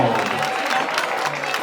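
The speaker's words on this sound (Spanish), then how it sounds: "Aplausos, fuertes los aplausos" Steady applause from a crowd at a patron saint festival in honour of Santa Rosa de Lima in Peru, a continuous dense clatter of clapping with a faint voice or tone threading through.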